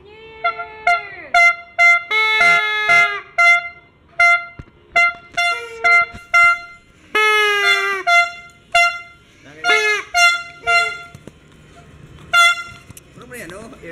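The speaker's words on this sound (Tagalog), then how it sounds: "Air horn." Air horns and party horns blare at a New Year celebration at home, with many short honks and a few long blasts close by, nearly continuous over more than ten seconds.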